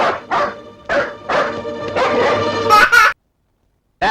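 Several dogs tied up to guard a mill bark in a rapid series of loud, close yaps and woofs for about three seconds, stopping abruptly before a brief silence.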